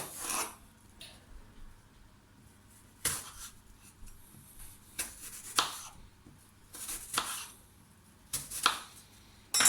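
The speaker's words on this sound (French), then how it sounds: "On va couper des tranches pas trop épaisses." Knife cutting thin slices of apple on a board for a sugar-free cake, giving several separate crunchy slicing strokes, close and moderately loud, with quiet gaps between cuts.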